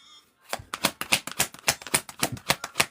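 Tarot cards are shuffled in a quick, steady run of crisp riffling flicks, close and fairly loud, starting after a brief quiet moment, with no talking.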